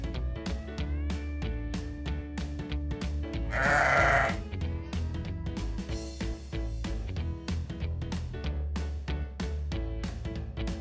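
A single sheep bleats once in a toddler's farm animal guessing game, a loud clear call rising over cheerful plucked background music.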